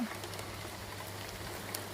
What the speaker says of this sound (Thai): โดนลูกเห็บกระเด็นเข้ามาในครัวค่ะ